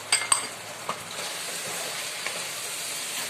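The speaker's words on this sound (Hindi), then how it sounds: "अभी आप देख सकते हैं हमारा चिकन अच्छे से फ्राई हो चुका है" Chicken kheema with red chili, dried coriander, chicken masala and salt frying in a pan, a soft, steady sizzle with a few light utensil clinks near the start, close but quiet.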